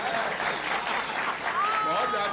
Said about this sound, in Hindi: थोड़ा तालियों से इनको बताइए